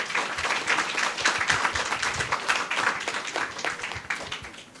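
A primary school spelling bee audience in St. Lucia applauds a contestant with steady, fairly close clapping from many hands that holds an even level throughout.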